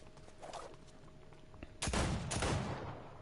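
Six-shooter pistol fire in Fortnite, quiet background clicks then a loud cluster of sharp gunshots close together, ringing out near the end.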